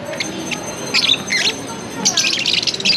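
Caged birds at Santo Niño Market in Marikina chirp in quick bright bursts, several calls overlapping close by against a low, busy market background.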